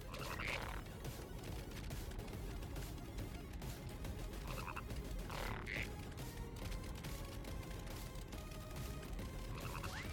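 Frogs in the Final Fantasy VII Rebirth video game croak repeatedly over a dense, busy background of game ambience, the calls scattered and moderately loud throughout.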